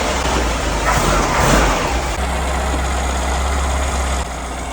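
A VW Baja Bug with leaking valve covers idles and rumbles steadily at close range, a low, continuous engine drone while the car is backed into a garage.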